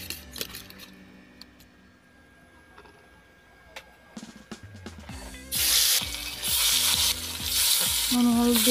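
Fish pieces, washed and rubbed with salt and turmeric, drop one by one into hot oil in a pan, setting off a loud, steady sizzle that swells and continues after a quieter, faintly ticking start.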